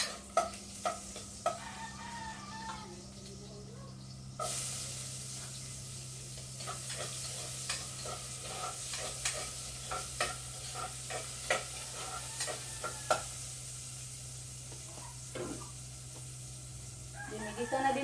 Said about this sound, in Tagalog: mag-gisa muna tayo sa ating mga ricados. Ang ating garlic at saka red onion